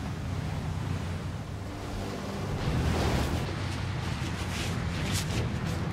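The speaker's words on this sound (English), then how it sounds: "Just got into a hell of a squall here." A crab fishing boat in a squall near Cape Caution, with a dense roar of storm wind and crashing waves at sea that stays loud and continuous and swells slightly midway.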